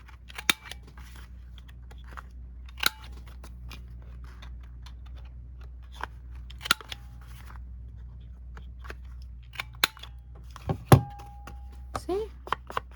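Corner rounder punching the corners of a paper journal card, a few sharp isolated clicks and snips spread out over quiet room tone.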